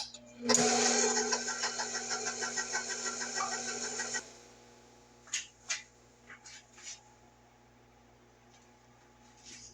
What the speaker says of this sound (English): I'm going to mix that and tie combine. First gear.